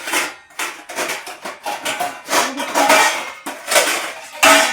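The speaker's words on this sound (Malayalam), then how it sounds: "കുഞ്ഞാറ്റെ വലിയ പാത്രം" A large metal cooking vessel is handled in a home kitchen, producing a rapid series of close, loud metallic clanks and scrapes in irregular bursts with brief pauses between them.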